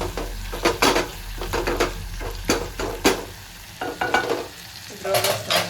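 A fenugreek leaf dish being mashed in hot oil in a pan, repeated scraping strokes with sizzling, loud and close, in an uneven rhythm of stirs and pauses.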